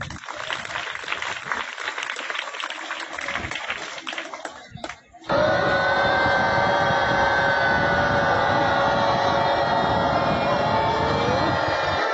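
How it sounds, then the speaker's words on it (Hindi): Students at a government higher secondary school in Chhatarpur break into loud, dense, continuous clapping, a broad roar of applause that follows a stretch of noisy crowd sound and lasts to the end. "वेरी गुड, बजाओ ताली।"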